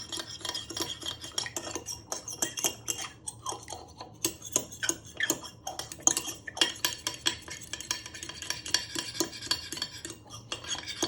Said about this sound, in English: can also put your bowl on a little slant and just give it a little whisk.